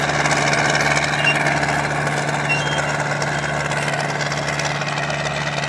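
A tractor diesel engine with freshly serviced injectors idles steadily and loudly, a constant low rumble with a knocking beat running throughout, no voices.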